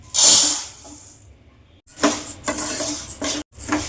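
Urad dal is stirred while dry-roasting in a kadai on the stove: a loud opening scrape, a short pause, then repeated bursts of gritty scraping and clatter of the lentils against the metal pan.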